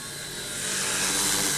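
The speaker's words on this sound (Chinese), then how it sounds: "好，我们把飞机降落" A remote-control C119 four-channel helicopter flies nearby with a steady, loud whirring buzz of its rotor that rises slightly over the moment.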